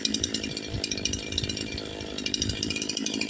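A brand-new CS-4910 chainsaw after its first stage-one tuning idles steadily close by, its engine a continuous buzzing drone that pulses slightly without revving, with no voices over it.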